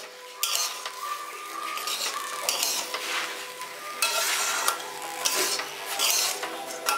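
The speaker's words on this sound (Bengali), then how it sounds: "এবার এগুলো দিয়ে আমি মিশিয়ে নিচ্ছি আর একবার" A spoon stirs garam masala and spice powder through paneer and green pea pulao in a pan, with repeated close scraping strokes, metallic clinks and a soft sizzle underneath, with no talking.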